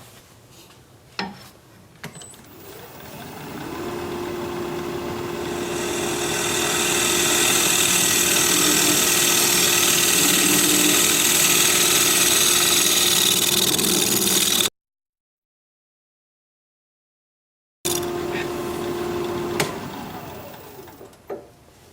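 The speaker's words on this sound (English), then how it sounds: "I can't shear scrape in this corner, so I'm going to use my bowl scraper." A wood lathe hums steadily as a bowl scraper rides the spinning wood of a bowl, producing a sustained, bright hiss that swells and holds, then stops abruptly and resumes.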